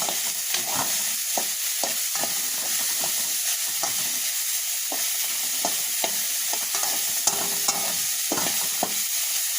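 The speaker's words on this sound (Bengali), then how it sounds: "এবার একটা কড়াইতে পেঁয়াজ কুচি দিয়ে দিয়েছি" Chopped onions fry in a hot wok with a steady sizzle, while a utensil scrapes and stirs them in repeated clattering strokes close by. No one speaks.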